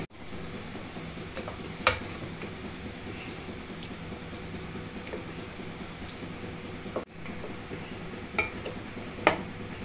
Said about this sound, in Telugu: స్టవ్ ఆఫ్ చేసుకొని రైస్ వేసుకొని కలుపుకోవాలి